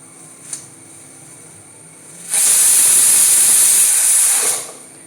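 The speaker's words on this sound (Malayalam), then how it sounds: "ഇനി നമുക്കത് സ്റ്റൗവിൽ വെച്ചിട്ട് ഒരു വിസിൽ വരാം." A pressure cooker on the stove, cooking rice, lets out a single loud, sustained hissing whistle of steam lasting about two seconds before cutting off, after a quiet stretch with one small click.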